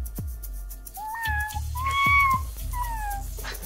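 A person imitates a cat, giving three drawn-out, sliding meows one after another, close and fairly loud, with no other talk.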